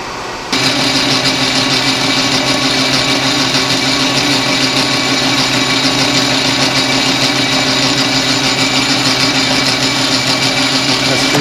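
A lathe drills with an oversized 204 drill fed from a worn tailstock, the bed also worn, giving a steady, loud mechanical hum with a dense, even whine that holds continuously after a brief start.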